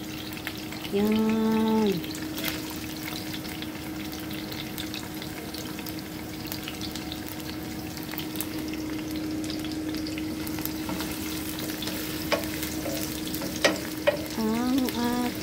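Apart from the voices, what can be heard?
crabs cooking and being stirred with coconut milk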